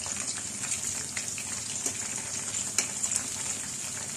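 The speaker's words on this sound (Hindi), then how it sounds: "जैसे जैसे फ्राई होते जाएंगे इनकी साइड चेंज करते जाएंगे" Chicken pieces deep-fry in oil for restaurant-style fried sesame chicken, making a continuous bubbling sizzle with scattered crackles and pops.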